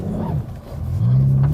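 Low, uneven engine rumble from a manual Aston Martin DB9 Sports Pack that nearly stalls, dipping and faltering before steadying into a louder, firmer idle close by.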